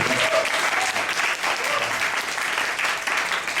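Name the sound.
congregation applauding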